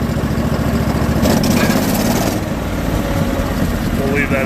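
The blower motor engine on a wall spray rig runs steadily at slow throttle, a low continuous idling rumble heard up close at job-site setup, with a brief rise in noise partway through.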